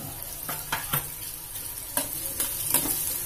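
Finely chopped garlic and green chili frying in hot oil for samosa filling, a steady soft sizzle broken by several light stirring scrapes and clinks of a spoon against the pan.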